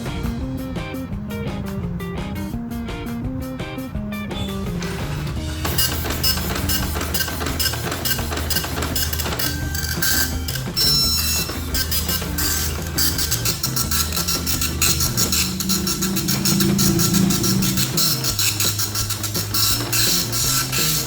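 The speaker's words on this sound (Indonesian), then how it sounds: "Saya lakukan tes printer lagi dengan klik tombol print test pack." An Epson LX-310 dot matrix printer buzzes and rattles continuously through a long test-page print run, its mechanical chatter steady and fairly loud.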